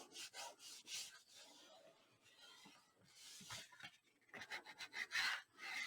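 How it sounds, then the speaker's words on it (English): Rubbing strokes burnish an adhesive strip onto a 12x12 paper album page, a series of soft, close scratchy swipes coming in uneven bursts, fairly quiet. "Burnish that in."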